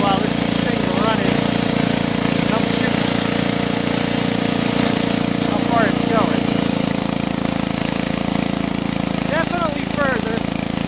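A Toro 524 snowblower engine, fitted with a modified impeller, runs steadily in first gear with a constant loud drone, while faint chirping sounds come and go over it.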